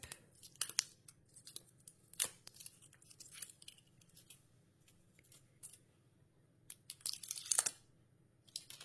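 Crisp crinkling, tearing and snipping of plastic packaging as a diamond painting kit is opened, in irregular close bursts with quiet gaps between.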